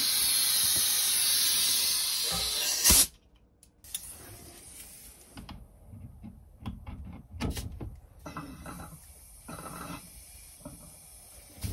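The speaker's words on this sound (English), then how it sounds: "So we're just going to go ahead and put 18 PSI in it and see what it does." Air hisses steadily through the fill valve of a water accumulator as it is pressurized, then cuts off abruptly after about three seconds, followed by quiet handling clicks and rustles.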